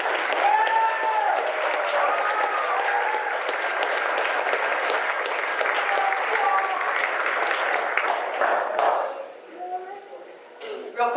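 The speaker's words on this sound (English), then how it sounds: "A round of applause," An audience at a business showcase event breaks into lively applause, with cheers and voices mixed into the clapping before it thins out near the end and a voice continues.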